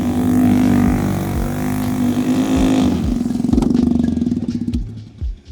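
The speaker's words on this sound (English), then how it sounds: "Driving a mini Jeep in Mach 10 right next to a ravine" A small engine on a mini Jeep drones loud and close at speed beside a ravine, with a steady buzzing tone that pulses and bumps as it drives, then rises and cuts back near the end.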